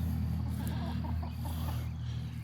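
Mixed-breed backyard chickens, about a month older and mostly grown, cluck softly and intermittently over a steady low droning hum that runs through the whole moment.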